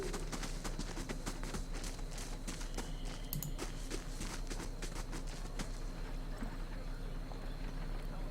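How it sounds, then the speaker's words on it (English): Horses in the video game Pillars of Eternity clop along in a steady run of hoof hits, set within a busy, continuous game soundscape at moderate level. "Got some horses."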